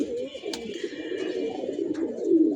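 Pigeons cooing steadily at a pigeon loft, a continuous soft low murmur of several birds close by, with no talking over it.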